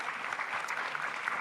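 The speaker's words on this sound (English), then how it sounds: "Big round of applause as well." Brief burst of steady applause from a conference audience, dense and continuous clapping at moderate distance.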